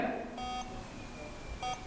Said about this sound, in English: we're getting a beep.